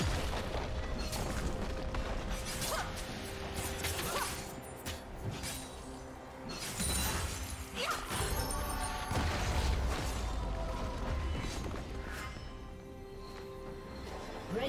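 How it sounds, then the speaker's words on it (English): A turret being destroyed in a League of Legends mid-lane match, with repeated heavy booms, crashes and bursts layered over busy game effects across the whole stretch. "Blue team's turret has been destroyed"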